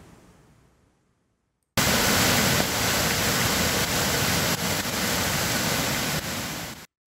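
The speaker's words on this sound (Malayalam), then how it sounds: "മന്നംപൊട്ടി പാലത്തിനു മുകളിലൂടെ മലവെള്ളം കുത്തിയൊലിച്ചതോടെ" Floodwater from an overflowing stream rushes over the Mannampotti bridge in Attappadi during heavy rain: a loud, steady roar that starts abruptly after a quiet second and holds constant until it cuts off near the end.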